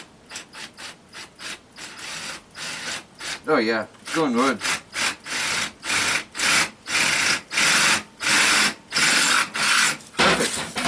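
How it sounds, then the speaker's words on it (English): A drill bores slowly through a metal M45 tent stove pipe, grinding in steady repeated strokes that grow louder and more regular, with a brief spoken remark partway through. "I just gotta drill nice and slow here because there's a good hole in it"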